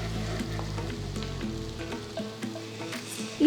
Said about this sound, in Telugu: తర్వాత చీల్చిన 2 పచ్చిమిరపకాయలు వేసి 5 నిమిషాలు ఉల్లిపాయల్ని వేయించాలి.